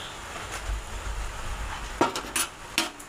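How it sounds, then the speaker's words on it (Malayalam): A spoon stirs egg curry masala in a pan, giving a few sharp metallic scrapes and clinks after a quiet low rumble, close and fairly faint overall. "മസാലയെല്ലാം നല്ലതായിട്ട് പച്ചമണം മാറി വരുന്നിടം വരെ ഇളക്കി കൊടുക്കണേ"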